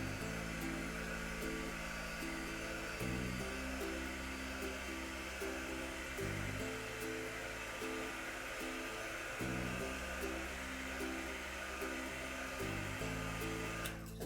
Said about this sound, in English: So we're going to start off with heating it up.